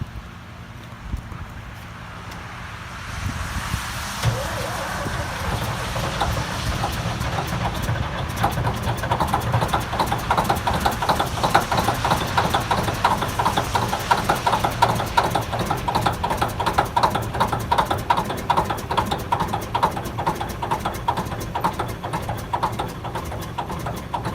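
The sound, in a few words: two-stroke engine running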